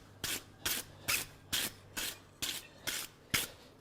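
A wire brush scrubs forged steel bolt jaw tongs in eight even, rhythmic strokes, each a short, bright scraping rasp, close and fairly quiet.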